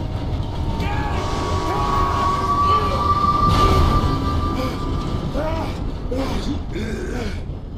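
A train in the video game Red Dead Redemption 2 rolls past with a heavy, continuous rumble, metallic creaks and groaning squeals rising over it, while voices speak in the foreground.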